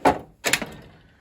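A metal drawer on a Harbor Freight rolling tool cart opens with two quick sliding rattles and a clunk, close and loud, the contents jostling briefly before fading.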